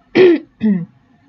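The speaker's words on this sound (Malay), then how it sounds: "Dia akan jadi macam ni, nak batuk" Two short, fairly loud throat clearings from a man, a voiced rasp followed by a second shorter one, with a brief pause between them and nothing else around them.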